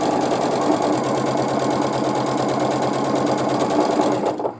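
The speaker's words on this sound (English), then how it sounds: "And I just have to be careful that I am" A sewing machine stitching fabric for a baby quilt, a loud, close, rapid rhythmic whirring and clatter running continuously before stopping at the end.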